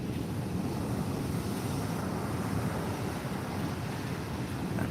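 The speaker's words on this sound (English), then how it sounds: "We can hear those waves crashing in" Steady ocean surf rolling onto a Southbourne beach while ray fishing, a constant broad roar with wind buffeting the microphone and no distinct individual wave breaks.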